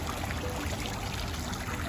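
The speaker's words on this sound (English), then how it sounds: "Very soothing sound of the water." Steady, dense splashing of an outdoor entrance fountain at the classic hacienda-style Royal Palms Resort in Scottsdale, Arizona, continuous and close with no pauses or voices.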